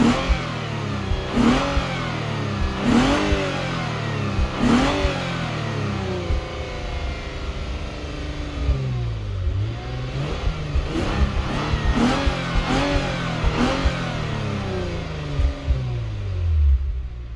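Naturally aspirated engine of a Lexus IS350 F Sport accelerating hard, repeated rising revs through several gear changes, loud and close with brief dips between pulls, no talking.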